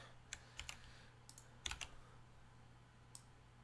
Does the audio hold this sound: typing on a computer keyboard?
yes